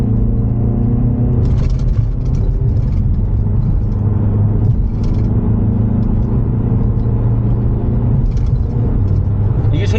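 A 2016 Renault SM6 with a 1.6 TCe turbo engine pulls in sport mode, a loud low rumble and whirring drone heard from inside the cabin, steady throughout, with voices talking over it.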